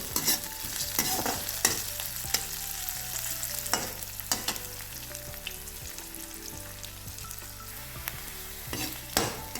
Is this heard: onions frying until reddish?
yes